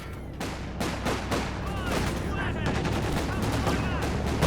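Infantry support gun fire in Company of Heroes 2 amid a wider battle, with repeated sharp shots and bursts of gunfire stacking over continuous rumbling combat noise at close range.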